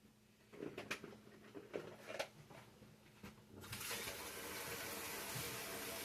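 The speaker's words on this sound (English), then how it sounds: "we're going to start this out with 1 cup of water, and it'll make its own broth after that." A cup of water poured into a pot for a home-cooked turkey dinner: a few soft knocks and handling clatters first, then a steady splashing pour that fills the second half, fairly quiet.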